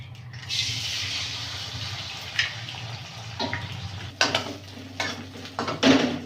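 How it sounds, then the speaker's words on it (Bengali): Egg is scrambled and fried in a hot wok in a village kitchen for bean fried rice, with a steady close hiss followed by scattered clinks and scraping of utensil against the pan. "ডিমটা ঝুরো ঝুরো করে ভাজা হয়ে গেছে"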